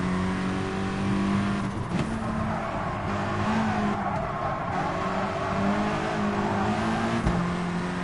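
Race cars in GT Sport at the Autopolis circuit, a steady loud engine drone with shifting revs and gear changes, continuous and close throughout.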